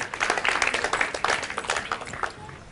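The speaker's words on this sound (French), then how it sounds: "Sous vos acclamations, mesdames et messieurs." Audience applause at a French poetry-declamation show, a dense burst of many hands clapping that holds steady for a couple of seconds and then thins out toward the end.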